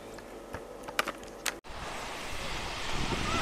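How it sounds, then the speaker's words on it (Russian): Rough sea surf and gusting wind on a Spanish coast under a strong levante wind, a steady broadband roar after a few sharp clicks at the start, no talking. "Сегодня море не в духе."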